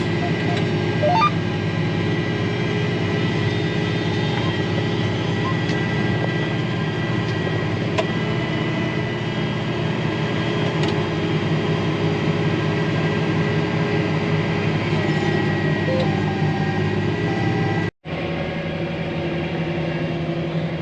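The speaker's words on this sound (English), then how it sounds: "That thing is noisy out there, isn't it? Between both vacuums and a blower." A John Deere planter's two vacuums and blower run in a field during corn planting, making a loud, constant droning hum that cuts out briefly near the end, with no speech.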